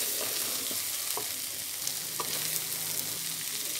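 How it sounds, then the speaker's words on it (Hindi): Egg and bottle gourd bhurji sizzles steadily in a pan, a continuous close frying hiss with a few soft scraping stirs and no voices. "इसे कंटिन्यू हम थोड़ी देर और भूनेंगे ताकि इसमें अंडे की स्मेल ना आए"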